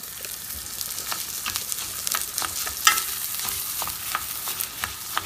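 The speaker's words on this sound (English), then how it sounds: "And now I am frying it in the oil." Steady crackling sizzle of rice frying in hot oil, with scattered sharp pops and occasional stirring scrapes, close and moderately loud.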